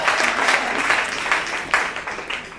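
A church congregation applauds in a steady burst of clapping, dense and continuous throughout, with no talking over it.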